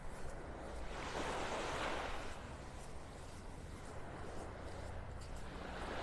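Warm Gulf of Mexico surf washing onto Vanderbilt Beach in North Naples, Florida, a soft continuous hiss of small waves with a gentle swell early on and light wind noise throughout.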